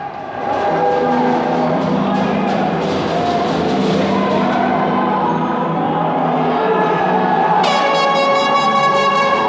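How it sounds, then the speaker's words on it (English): A high school ice hockey crowd roars steadily with loud mixed noise, then a piercing, brassy air horn blast from fans cuts in near the end and holds. "And the air horn from the Nantucket fans"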